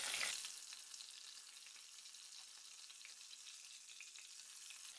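Pomfret fish fries on a flat tawa over the flame, giving a soft, even sizzle that stays faint and constant, with no voices over it.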